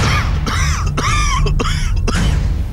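A series of five or six harsh, rasping coughs in quick succession, close and loud, over a constant low background hum.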